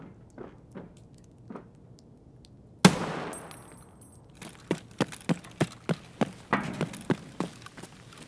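A smoke grenade thrown in Escape from Tarkov pops with a sudden burst and a hissing trail, then a quick run of regular footstep-like thuds follows.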